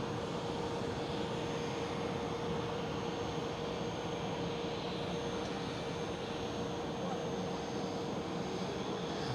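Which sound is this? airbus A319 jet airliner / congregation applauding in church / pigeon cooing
airbus A319 jet airliner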